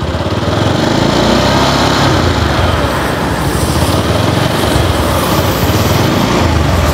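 A used, first-owner motorcycle with about 21,292 km on it idles close by, giving a loud, continuous rapid putter that stays even from start to finish.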